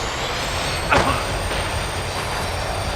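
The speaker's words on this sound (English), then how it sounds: "The tram was slowing down, and I'd only just gotten on board." A tram in the video game Max Payne 3 slows down, giving a steady rumbling rail noise with a brief hiss of brakes partway through. No one speaks.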